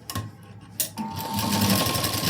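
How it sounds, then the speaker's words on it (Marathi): Close by, a sewing machine stitches a folded fabric strip, giving a couple of brief starts and then a steady, rapid whir of stitching that runs to the end. "आणि आता इथं शिलाई देऊन घ्यायची"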